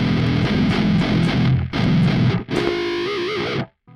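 Heavily distorted electric guitar tuned down to drop G plays thick, chugging low riffs with brief gaps, then a sustained note with wavering bends before cutting to silence, loud and close with no talk.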